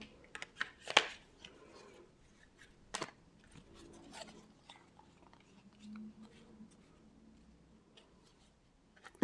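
Tarot cards are handled and shuffled close by in a quiet room, with soft irregular flicks, riffles and papery rustles plus a few sharper snaps, no voices.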